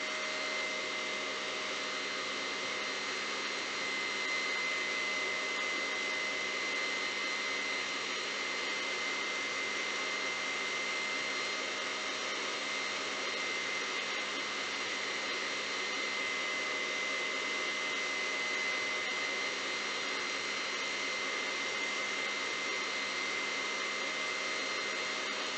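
An electric mixer whirs steadily while mixing cookie dough in a home kitchen, a constant, even motor drone with a faint high whine that runs unbroken and alone for the whole stretch.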